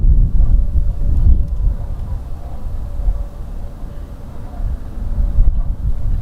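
An Embraer ERJ 145 arriving at Toronto Pearson Airport from Philadelphia, heard as a loud, steady low jet rumble mixed with wind buffeting the microphone outdoors, with no talking.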